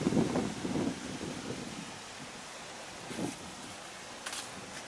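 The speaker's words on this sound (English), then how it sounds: "And the wind's starting to pick up." Wind blowing outdoors among fig trees, a low rumbling buffet across the microphone in uneven gusts, strongest at first and then easing to a soft steady rush.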